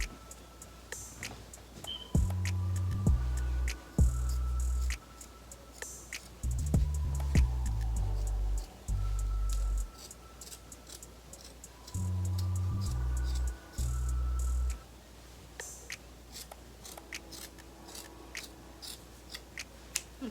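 Scissors cutting through leggings fabric, four separate bursts of steady crunching snips spaced a few seconds apart, close and loud, with quiet handling between them and no talking.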